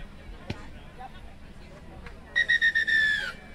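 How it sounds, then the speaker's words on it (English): A referee's whistle at halftime of a rugby sevens bronze medal match between Bermuda and Barbados at the 2021 Rand Sevens: several short shrill blasts, then one longer blast, loud over a low background murmur. "that's the halftime whistle in the bronze medal match"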